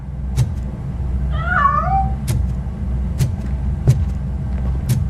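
A cat meows once in the video game RoboCop: Rogue City, a short wavering cry rising and falling over a low rumbling backdrop, with sharp metallic ticks repeating throughout.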